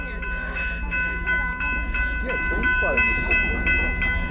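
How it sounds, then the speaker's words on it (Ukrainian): A long freight train rolls past a level crossing near the ocean shore in autumn, with a steady heavy rumble, rhythmic wheel clicks and ringing crossing bells close by, and a faint voice in the background. "Буде їхати поїзд."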